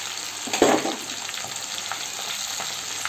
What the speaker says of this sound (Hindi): फ्रेंड्स, तेल तेज हो गया है, अब मैं इसको इसमें डाल करके ऐसे डीप फ्राई कर लूंगी।